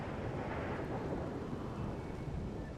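A rainy thunderstorm in the colony-building game Rimworld gives a dense, continuous roar of rain and rumbling thunder. It sounds close and steady throughout, with no talking.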